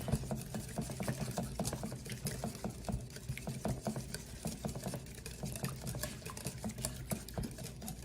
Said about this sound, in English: And then we're gonna grab our whisk, and you're gonna whisk this together.